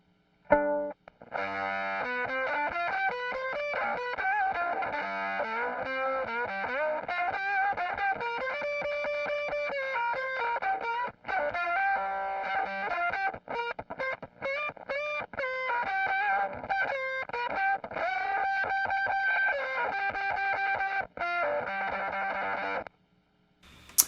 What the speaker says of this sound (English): Yes, this is an octave up fuzz.